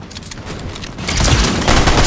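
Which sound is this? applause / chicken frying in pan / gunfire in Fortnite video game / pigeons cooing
gunfire in Fortnite video game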